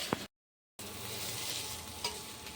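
Green chilies and onions sizzle in a frying pan, a steady close crackle with a brief stir at the start, a short gap of silence, then continued frying with a small clink.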